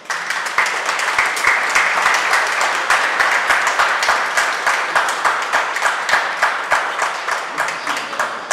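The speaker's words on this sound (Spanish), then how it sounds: "Lo recibimos con un aplauso." An audience applauding at a Movimiento Sanmartiniano event in Mar del Plata, sustained loud crowd clapping with a steady rhythmic pulse throughout, a few individual claps standing out.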